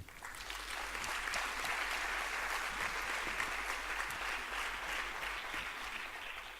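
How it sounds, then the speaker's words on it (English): Steady, dense applause from an audience at a culinary startup competition final, sustained and fairly loud for the whole stretch with no talk over it. "So I would like a warm applause to our Peruvian colleagues."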